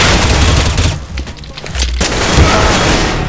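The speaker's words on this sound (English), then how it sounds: "Throwing flashbang." Flashbang grenade thrown and going off in CS:GO, heard as loud booming bursts with a dip and ringing lull midway, then a second heavy blast of broadband noise, dense and close, with no talk.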